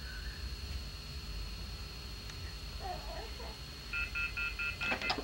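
A telephone knocked off the hook gives a short run of electronic beeps near the end, faint against a quiet background hiss.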